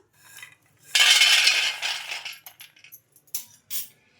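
Fried peanuts tipped from a kadai onto a plate, a loud dense rattling pour for about a second and a half that thins into scattered clinks and a few last nuts dropping, with no voices.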